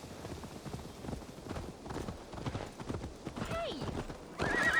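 Video game horse with steady clip-clopping hooves throughout and a rising neigh near the end, close and moderately loud beneath people talking.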